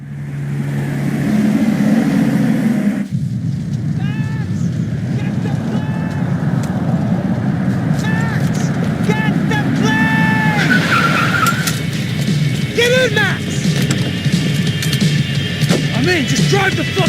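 Car driving and skidding during an in-game chase in the video game Max Payne 3, with tire screeches and a steady engine roar running loud throughout, mixed with music and other effects.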